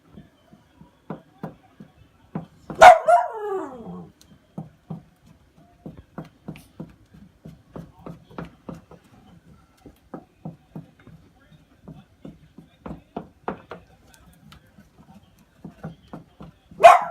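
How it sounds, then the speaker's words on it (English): A small dog barks in two short outbursts several seconds apart in a home kitchen where chocolate-peanut butter fudge is being mixed, with a steady run of soft knocks and taps from the cooking filling the gaps between. "barking because she wants picked up so she can see what's going on"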